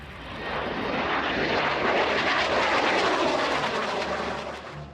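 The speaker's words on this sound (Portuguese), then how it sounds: "Este é o F-117 Nighthawk." An F-117 Nighthawk stealth jet flies past with a loud, broad roar that swells in and fades away over several seconds, steady and without voices.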